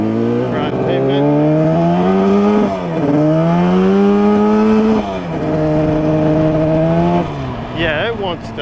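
A two-stroke motorcycle engine revs on pavement, its loud buzzing note rising and falling through several throttle swells, dipping briefly near three and five seconds before climbing again, close and continuous throughout.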